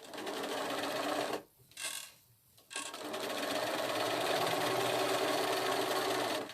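A sewing machine stitches fabric appliqué shapes, running steadily and loudly up close. It stops briefly once, restarts, then runs continuously to the end.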